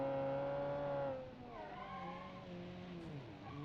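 A 1960s Dodge Challenger muscle car engine in a driving simulation game, a tonal engine drone that drops in pitch after a second, then a fainter, wavering engine note with shifting revs.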